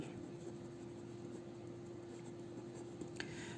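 Faint scratching of writing out a sentence during a quiet lecture, soft strokes with light ticks over a low steady hum.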